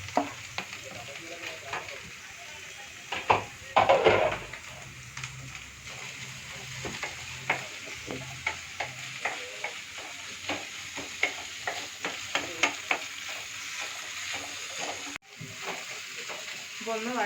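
Crushed ginger and garlic sizzle and fry in a hot pan for a duck pepper roast, a steady broadband hiss broken by frequent stirring scrapes and clicks, with a brief louder burst early on.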